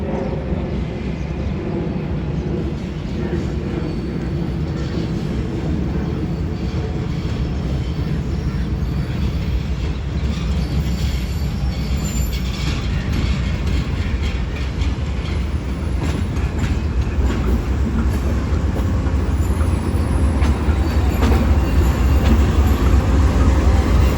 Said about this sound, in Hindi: 10 down Allama Iqbal express AG 30 6007 के साथ पहुंच रही है ड्रीग रोड रेलवे स्टेशन